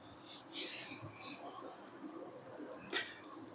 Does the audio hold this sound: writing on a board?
yes